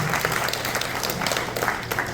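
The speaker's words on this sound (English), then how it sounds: "So let us give him a round of applause." An audience gives a continuous round of applause at an event honoring a tabla school, dense steady clapping from many hands throughout.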